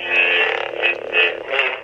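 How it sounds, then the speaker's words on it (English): A custom toy lightsaber swung back and forth, its steady electronic hum swelling into three or four smooth whooshing surges at an even pace, close and fairly loud with no voices. "Next, we'll listen to it as you move it around."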